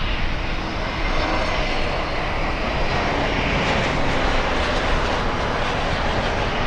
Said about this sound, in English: A lot of planes coming.